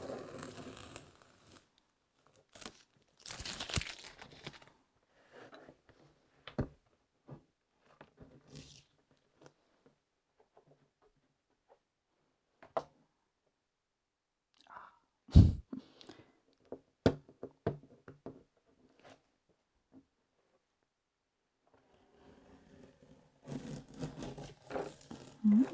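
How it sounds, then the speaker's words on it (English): Masking tape is peeled from paper around a soft pastel landscape drawing, with scattered dry taps and crackles in a quiet room, a sharper rip in the middle and a longer tearing rustle at the end. "Satisfying when that tape comes off."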